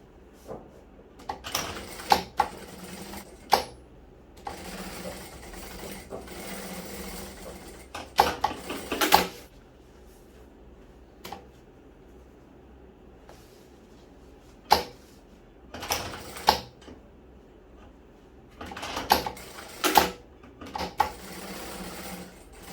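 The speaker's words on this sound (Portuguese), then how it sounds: "Então a gente vem aqui e faz essa costura." Sewing machine stitching a seam alongside a zipper on a fabric toiletry bag, heard in several short whirring bursts separated by pauses, fairly close and moderately loud.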